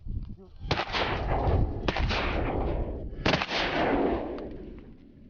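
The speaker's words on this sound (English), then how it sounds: "Now we're gonna shoot them when they pass" Loud shotgun blasts at a passing flock of teal ducks during a Louisiana hunt, with about three close booming shots, each followed by a long rumbling echo.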